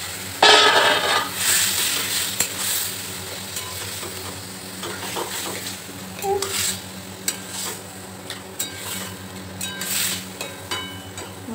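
Boiled vegetables are stirred into a spice masala of green chilli, cumin, coriander powder and tomato in a pot, with a spoon scraping and clinking against the metal over a steady, close sizzle.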